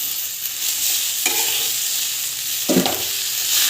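Mint leaves and dried red chillies sauté in hot oil in a pan for a tamarind recipe, giving a steady broadband sizzle with two louder bursts of stirring scrapes partway through, close and with no voices.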